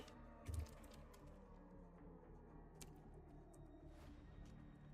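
Faint keystrokes on a computer keyboard as a loadout code is entered, soft and quiet under a low rumbling background, with a single louder thump near the start.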